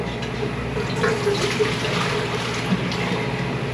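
Water poured steadily into a small pot or container for noodle soup, a continuous close splashing fill sound with low background rumble, no talking.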